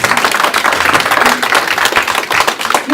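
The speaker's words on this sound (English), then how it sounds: "Can we clap for these guys?" Audience at a Mariposa County election forum claps loudly for the local volunteer fire department, dense close clapping that holds steady for several seconds.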